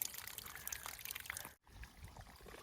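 Water trickles and pours through a funnel at a spring on the Tahoe Rim Trail near Relay Peak, a quiet close splashing flow with a brief cutout midway.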